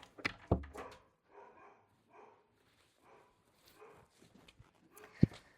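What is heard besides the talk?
dog barking after being put out of the room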